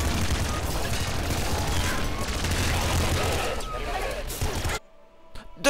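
In the video game Nuclear Throne, dense rapid gunfire and chaotic combat effects pour out loudly and continuously for several seconds before cutting abruptly to near silence.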